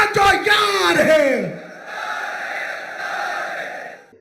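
A crowd at a rally chants slogans against Modi, loud rhythmic shouted voices at first that fade into a quieter, sustained crowd roar.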